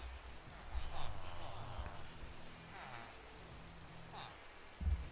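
Steady rain falls in Minecraft, a soft, even hiss of drops hitting surfaces, moderately quiet and continuous with a low rumble near the end.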